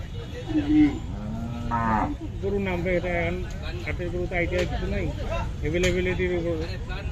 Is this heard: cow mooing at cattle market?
yes